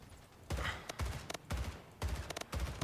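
Gunfire in the arena shooter Splitgate, about five short bursts of close, punchy shots spaced roughly half a second apart, each with a sharp crack and thudding low end.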